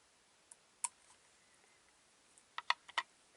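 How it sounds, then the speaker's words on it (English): Heavy-duty scissors snip tinsel off a fly during tying, a handful of sharp close clicks: one single snip, then a quick cluster of three or four cuts near the end, with quiet between. "You clip your tinsel off."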